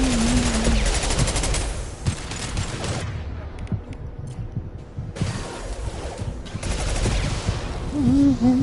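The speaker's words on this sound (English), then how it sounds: "Firing an impact shot." Rapid bursts of impact-shot gunfire in the video game Mass Effect 2, a loud sustained volley that pauses briefly midway and then resumes, with a voice speaking at the start and end.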